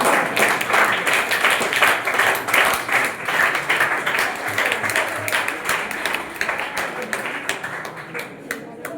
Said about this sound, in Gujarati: આપ સૌને તાળીઓ આપો